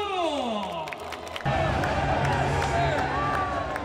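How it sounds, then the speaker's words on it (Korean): A stadium crowd cheers and applauds as the NC Dinos win Game 1 of the 2020 Korean Series 5–3. After a soft musical opening, a broad, loud, sustained roar of cheering and clapping swells in. "박수 박수!"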